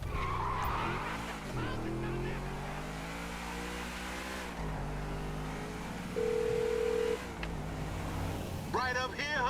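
Convertible drop-top car driven in GTA V, engine hum and tire noise running beneath steady character dialogue, with a brief tone and a short skid-like squeal near the end.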